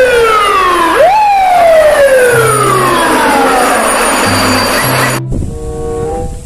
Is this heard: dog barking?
no